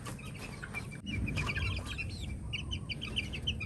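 Chicks peep and cluck softly and continuously while being fed papaya, melon and banana. Their high chirps come in quick, overlapping bursts over a low rumbling background.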